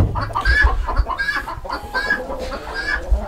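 Rhode Island Red chickens in a small farm flock cluck and call close by, a string of repeated bursts over a low barnyard background.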